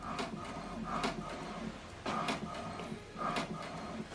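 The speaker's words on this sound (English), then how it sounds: "So what it's doing now is printing the alignment." An HP Deskjet 2700e printer runs its alignment page, giving off repeated mechanical bursts of carriage and paper-feed noise in roughly three pulses with short pauses between them, close by and moderately loud.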